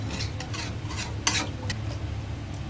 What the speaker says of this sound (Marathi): आणि असा साईडचा मसाला पण सगळं मिक्स करून घ्यायचा.